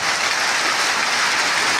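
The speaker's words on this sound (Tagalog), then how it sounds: "lakas ng ulan mga idol oh" Heavy rain falls as a short, steady, loud rushing hiss, dense and close, with no speech over it.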